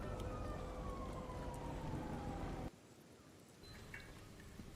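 A fire truck siren in the Kenshi video game wails loudly with a gliding, falling tone, then cuts off abruptly partway through, leaving quieter background ambience.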